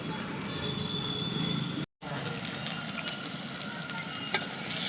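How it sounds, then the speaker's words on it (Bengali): Chicken pieces fry with ginger and garlic in a pan for a Bengali chicken and potato curry, giving a steady moderate sizzle with a brief dropout and a faint clink near the end. "আদা রসুন দিয়ে ভালো করে মাংসটাকে কষিয়ে নিয়েছি"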